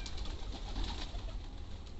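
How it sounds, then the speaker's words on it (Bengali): Pigeons coo softly and steadily in hot weather as they gather to drink water, their low burbling calls continuous against faint background noise. "দেখেন এই যে কবুতর, এই দুটো"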